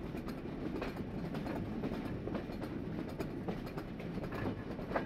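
The Chitra Express, a passenger train in Bangladesh, rumbles along at night in a low, continuous roll. Faint rhythmic clicks come from the wheels over the rails, heard from inside the carriage with no voices.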